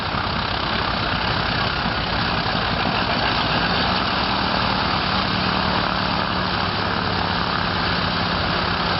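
The radial engines of a Junkers Ju 52 run on a wet start at an air show, giving a continuous, dense propeller drone and idling clatter at moderate distance with no pauses or voices.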